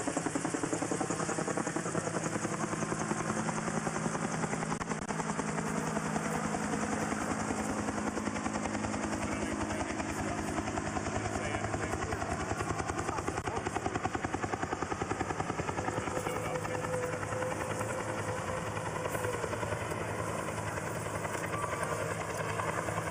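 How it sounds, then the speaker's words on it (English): A search helicopter circles overhead during a manhunt in Maine, its rapid rotor chop and engine whine droning continuously and fairly loud, with a slight rise and fall in the middle, and no talking. "So you can actually hear the aerials of a helicopter out there as they are doing searches"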